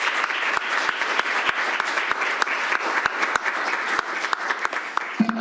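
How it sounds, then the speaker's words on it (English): A room of family members and guests at a Board of Education study session applauds steadily and fairly loudly, with a brief murmur of a voice near the end. "A round of applause for you."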